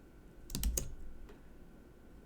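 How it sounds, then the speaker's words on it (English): Several quick keystrokes on a computer keyboard while entering text for a digital art collage, clustered in a short burst and then a single tap, close and fairly quiet against faint room hiss. "type in my loved one's name"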